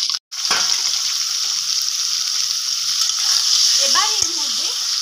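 Green chillies are dropped into hot oil already tempered with nigella seeds and whole garlic, setting off a loud, steady sizzle after a short gap, with stirring clinks late on.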